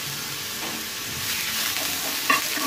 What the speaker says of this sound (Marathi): त्याच्यामध्ये या बिया पण परतून द्यायच्या